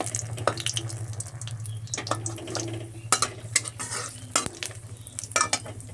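Dried red chilies sizzle in hot oil as a spatula knocks and scrapes the pan, sharp irregular clatters over a constant close frying hiss.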